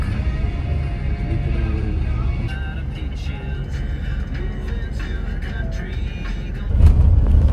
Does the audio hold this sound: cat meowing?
no